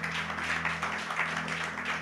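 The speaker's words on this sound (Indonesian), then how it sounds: "Saudara boleh berikan tepuk tangan bagi Yesus Tuhan kita." A church congregation gives steady, massed applause throughout a worship service, with a sustained musical hum underneath.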